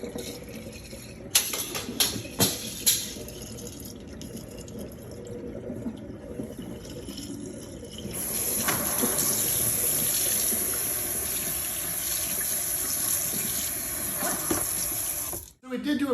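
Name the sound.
toilet flushing and tank refilling with water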